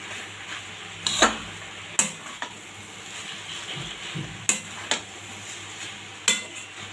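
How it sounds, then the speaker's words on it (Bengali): Stale roti chowmein with tomato sauce and soy sauce gets stirred in a pan, the spoon knocking and scraping at irregular intervals over a low sizzle, close and fairly loud. "এবার ভালো করে মিশিয়ে নেব"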